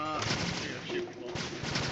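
Gunshots in Metal Gear Solid 2, a dense run of loud, sharp shots firing throughout the brief clip, with traces of voices underneath.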